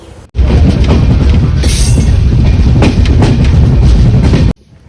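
A passenger train pulls away from a station with a loud, close rattle and rhythmic clickety-clack of wheels over rail joints, with occasional metallic squeals and bangs, cutting off abruptly.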